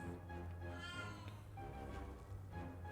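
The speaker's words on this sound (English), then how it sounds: "Sorry, yeah, I was talking to the cat." A house cat meows in a few drawn-out, wavering calls, near and fairly quiet, with faint room sound between them.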